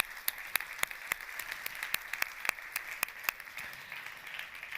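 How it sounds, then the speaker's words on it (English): Sparse applause from a conference audience closing a COP Presidency event on risk sharing, with distinct individual claps spaced irregularly over a faint room background, fairly quiet and distant. "let us give a very warm round of applause, please, to all of those who have made today's event possible"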